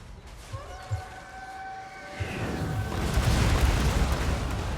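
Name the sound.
explosions in Warhammer 2: Total War video game battle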